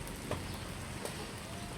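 Steady afternoon rain patters continuously at a moderate level, with a couple of slightly louder drops standing out against the even hiss.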